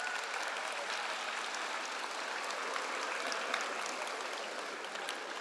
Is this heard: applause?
yes